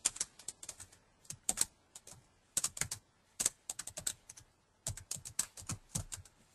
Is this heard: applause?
no